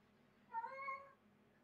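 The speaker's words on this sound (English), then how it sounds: "That's a lot of cat meows." A pet cat gives a single faint meow of about half a second from somewhere in the room, slightly drawn out and rising then falling. It sounds alone against quiet background hiss.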